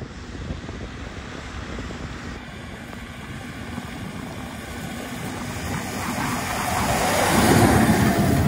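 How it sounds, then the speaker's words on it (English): JCB Fastrac 724 tractor in a drag race on a farm against a Fendt, a broad rumbling engine roar mixed with wind noise, building steadily louder toward the end with no talking. "Fastrac 724 drag race."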